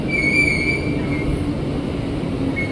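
A 12-car commuter train rumbles into platform 1 at Jatinegara station, with a high metallic wheel squeal ringing over the steady rolling noise, fairly close.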